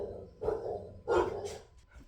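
Dogs barking indoors in two short bursts, reacting to something outside, fairly close and moderately loud with a quiet gap between them.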